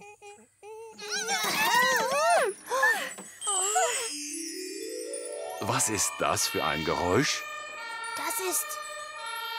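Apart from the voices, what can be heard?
ambulance siren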